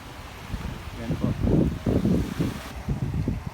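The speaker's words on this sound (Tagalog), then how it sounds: "mainit ang sikat ng araw pero napakalamig na simoy ng hangin" Cool wind gusts across the microphone on a beach at Caticlan, a steady rumbling buffeting with soft shore noise beneath, rising and falling in waves, with no talk.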